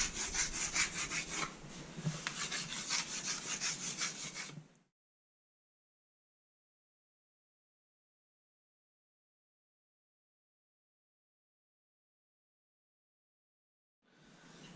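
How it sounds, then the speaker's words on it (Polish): A saw rips wood into narrow strips for an end-grain butcher block, a loud continuous rasping cut for several seconds, then a long silence before the cutting noise resumes at the end. "Ja teraz ustawię piłę na 23, 24 mm. I będę ciął"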